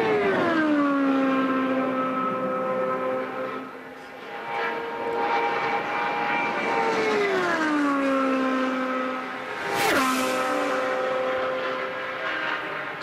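Ryan Briscoe's Penske IndyCar screams around Indianapolis during Indy 500 qualifying, a loud high-revving engine whine that falls and rises as it passes, with a sharp Doppler swoop near the end.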